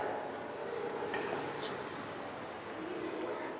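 Rubbing out writing on paper, a steady close scratchy swishing that runs continuously for a few seconds, fairly quiet and alone.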